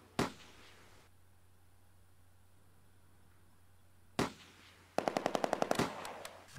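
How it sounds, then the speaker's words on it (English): Rifle fire in the WWII video game Close Combat: A Bridge Too Far at the Arnhem rail bridge, with two isolated sharp shots several seconds apart and then a rapid burst of cracks. "we're only getting individual rifle shots from the reserve troops"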